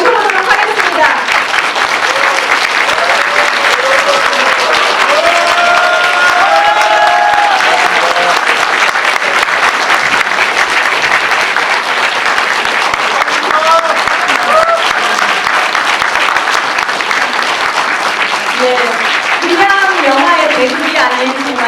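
An audience in a Megabox cinema in Ansan applauds to welcome the film's director to a post-screening talk, steady loud clapping throughout with scattered cheers over it.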